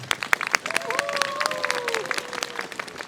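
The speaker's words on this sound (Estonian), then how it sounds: "Suur tänu, plaksutame neile." An indoor audience at an Advent concert applauds a children's singing studio with scattered, moderate clapping, while a voice speaks briefly over it.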